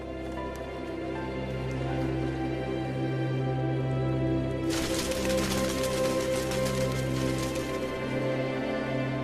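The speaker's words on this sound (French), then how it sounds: "les premières gouttes d'eau se transforment vite en pluie torrentielle" Torrential rain in the Venezuelan savanna, a dense steady hiss that swells sharply about halfway through as the downpour intensifies, heard alone over a constant low background.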